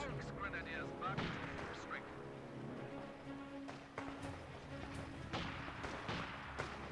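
Howitzer artillery fire in the World War II strategy game Company of Heroes 2, heard as booming shots mixed into the dense noise of an urban battle, with someone talking over it.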